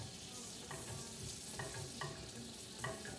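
A grilled cheese sandwich fries in butter in a pan with a constant close sizzle, broken by a few scraping stirs of a utensil.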